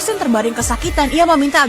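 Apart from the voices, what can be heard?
No distinct noise like a dog, phone or traffic.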